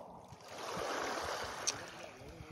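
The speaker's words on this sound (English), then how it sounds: "Look at those waves." Ocean waves wash onto a beach in a steady, rushing surge that swells midway and then eases off, heard from nearby with no voices.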